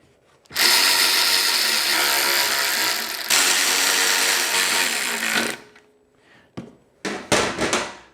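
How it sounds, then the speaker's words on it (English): A power drill drives screws into the top of a Toro walk-behind mower's fuel tank, whirring loudly in two long sustained runs, then several short bursts close by. "Go ahead and put our 3 screws in the top to hold the fuel tank on."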